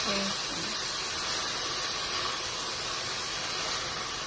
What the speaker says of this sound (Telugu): కట్ చేసి పెట్టుకున్న పాలకూర వేసి వేయించుకుందాం.